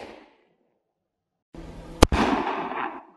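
A homemade green colored firecracker in a cardboard sleeve wrapped with metallized tape goes off with one sharp bang, followed by a loud crackling, fizzing burst that carries on for about a second.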